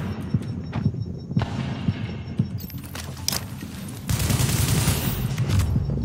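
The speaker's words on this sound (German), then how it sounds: "Komm her, ich baller dir mein ganzes scheiß Magazin auf den Kopf." Rapid bursts of automatic gunfire from the video game Tom Clancy's The Division, sharp repeated shots in clusters, growing into a denser, louder volley toward the end.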